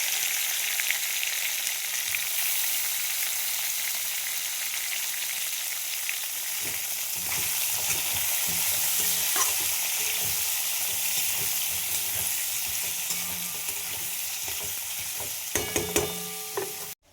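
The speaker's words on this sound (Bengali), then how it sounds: "এবার আমি দিয়ে দেবো পেঁয়াজ আলুর সাথে পেঁয়াজগুলো আমি ভেজে নেবো" Onions frying in oil with potatoes and bay leaf, a steady close sizzle that thickens after a few seconds, with occasional stirring scrapes near the end, no talking.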